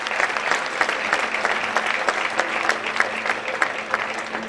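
Steady applause from a crowd at a table tennis match fills the hall, dense clapping with scattered sharp claps standing out, sustained evenly throughout with no talk.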